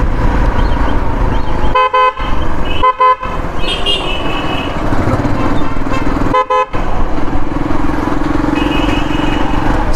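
Vehicle horns toot in short bursts on a busy road in flood-hit Machilipatnam, Andhra Pradesh. Three loud honks stand out over the steady drone of passing cars and motorcycles.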